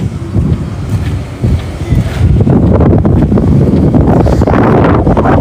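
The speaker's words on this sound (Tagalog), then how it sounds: "Malakas talaga hangin dito." Strong outdoor wind buffets the microphone in a loud, continuous low roar that grows heavier and steadier in the second half, with no voices.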